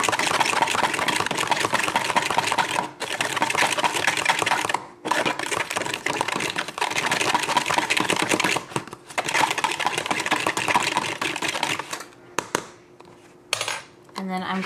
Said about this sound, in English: I'm just going to whisk these together.